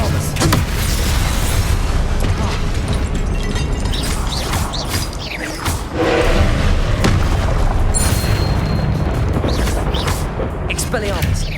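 Spells are cast in Hogwarts Legacy combat, with repeated booming magical blasts and sharp whooshes over a continuous bed of game noise, and a voice calling out now and then.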